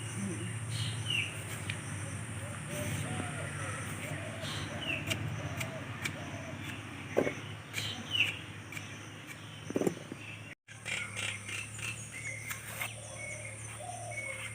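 Bird calls chirp outdoors in a rural setting, several short tweets scattered over a steady background of insects, with a few louder sharp sounds near the middle.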